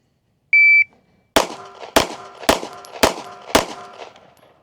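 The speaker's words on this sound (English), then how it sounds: "shoot 5 rounds. I'm going to shoot them kind of slow. Just make sure the shot timer picks everything up" A shot timer gives one short electronic beep, then after a pause five pistol shots ring out at an even, unhurried pace, each one loud and sharp with a brief decaying echo.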